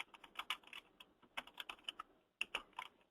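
A product description typed on a computer keyboard: quick, crisp key clicks in bursts with a brief pause between runs, close and quiet, with no voices.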